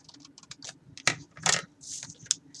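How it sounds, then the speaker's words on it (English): A small notch is cut into craft material, heard as a handful of crisp, close, quiet snipping clicks spread irregularly over a few seconds. "I'm going to cut out a little notch down here."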